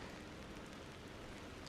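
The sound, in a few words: rain falling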